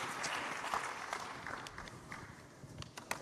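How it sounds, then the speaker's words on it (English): Conference audience at the Hope Global Forums 2024 gives a big round of applause, a dense wash of clapping with sharper individual claps and knocks poking through, fairly steady over a few seconds. "Let's give them all a big round of applause."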